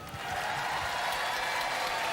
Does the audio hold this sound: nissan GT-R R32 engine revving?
no